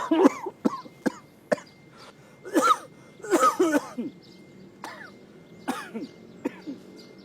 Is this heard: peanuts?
no